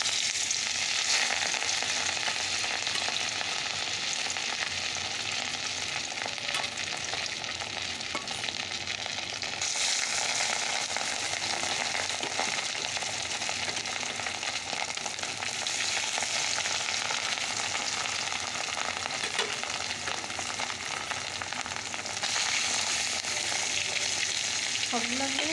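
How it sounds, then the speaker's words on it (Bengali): Fish pieces fry in hot oil in a kadai, a steady dense sizzle and crackle running continuously and close throughout, with faint stirring and no talk. "তো চলো এবার মাছগুলো ভেজে নেই।"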